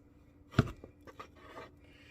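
A knife chops raw meat on a cutting board, with one sharp, heavy close-up chop followed by a few lighter taps and scrapes against the board.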